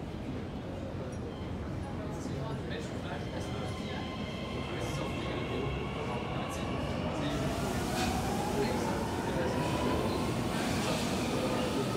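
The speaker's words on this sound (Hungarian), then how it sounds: "Érkezik a következő szerelvény." A metro train pulls into an underground station with glass platform walls, a loud continuous rumble with rising and falling squeals and whining tones from the wheels and motors, growing brighter as it nears.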